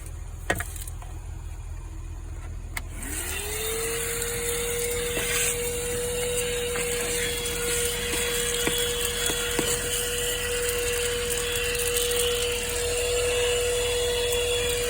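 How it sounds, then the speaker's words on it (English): A small portable car vacuum cleaner, powered from the cigarette lighter socket, whirs to life with a rising motor whine, then hums steadily and closely, with occasional knocks and rustles against it. "I have this little machine over here, vacuum cleaner that connects to the cigarette lighter over there"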